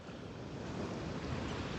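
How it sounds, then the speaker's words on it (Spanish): Distant waves break at Tayrona beach in Colombia, heard as a steady, broad roar of surf with some wind rushing across the microphone and no voices. "Miren allá cómo rompen las olas a lo lejos"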